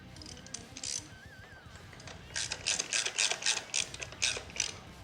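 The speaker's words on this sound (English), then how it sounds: "now we can go ahead and secure our Allen bolts here" A ratchet tightens Allen bolts on a Cobra Powerflo air intake fitted to a 2013 Harley-Davidson. Close, quiet clicking pawl sounds come first in a short burst, then in a longer rapid run of clicks.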